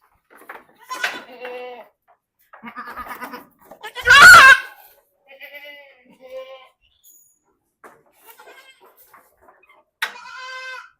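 Young goat kids about one month old bleat in short, separate cries at close range, one much louder than the rest, with quiet gaps between calls.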